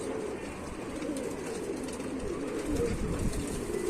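A loft full of pigeons coos in a constant low, throbbing chorus, with a slightly louder swell of calls toward the end.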